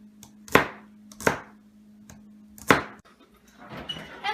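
A knife chops celery and onion finely on a board, giving a few sharp, well-spaced close thuds, followed by softer cutting noise.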